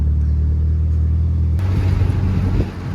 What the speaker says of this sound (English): Had another car pull in.